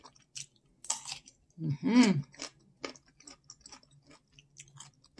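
Crunchy food is bitten and chewed up close in quiet, with several short crisp crunches and one louder burst in the middle.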